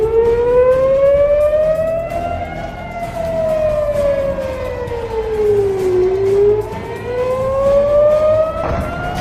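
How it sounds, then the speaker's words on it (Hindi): Civil defense warning sirens wail across Israel, a loud steady tone slowly rising and falling in pitch, heard continuously over faint background noise. "पूरे इजराइल में चेतावनी के सायरन बज उठे"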